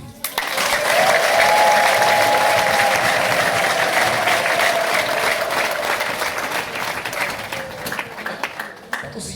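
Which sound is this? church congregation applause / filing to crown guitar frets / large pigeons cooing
church congregation applause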